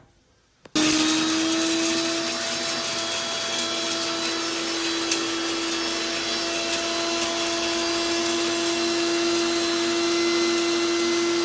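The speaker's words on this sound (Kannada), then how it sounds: "ನಾನು ಮಿಕ್ಸಿ ಗ್ರೈಂಡರ್ಗೆ ಹಾಕೊಂಡಿದ್ದೀನಿ ಇದನ್ನು ಪುಡಿ ಮಾಡ್ಕೊಳ್ಳೋಣ ಇವಾಗ" A mixer grinder grinding spices whirs steadily at high speed after switching on, a loud constant motor whine with a gritty rattle of grinding, no talking.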